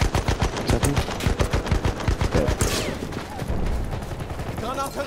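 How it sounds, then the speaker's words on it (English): Rapid sniper and automatic gunfire crackles through a shooter video game in dense repeated bursts, loud and close, with players talking over parts of it. "There was a couple of snipers just shooting down from the rock."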